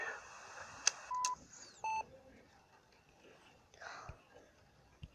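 Telephone keypad tones sound as a handful of short, distinct beeps spaced over a couple of seconds, with soft clicks and faint whispery background noise and no clear speech.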